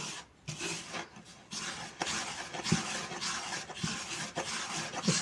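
Fingers rubbing and mixing semolina dough for makrout in a bowl, a soft continuous gritty rasping with light irregular scrapes and taps, close and fairly quiet.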